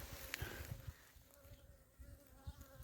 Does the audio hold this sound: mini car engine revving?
no